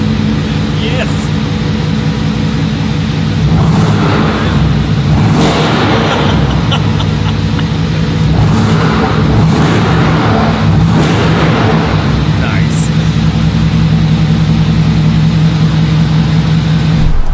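A Mercedes-AMG GT4 race car engine accelerating on a track, loud and close throughout with repeated rising surges of revving over a steady drone. A voice talks at points over the engine.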